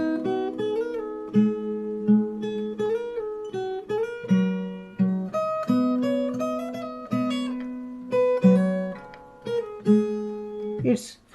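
Fingerstyle acoustic guitar plays the next section of a song, with picked melody notes ringing over open-string bass, close and unaccompanied, ending on a brief noisy scrape.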